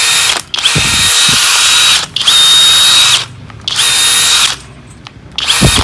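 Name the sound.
FLEX 24V FX1271T cordless drill drilling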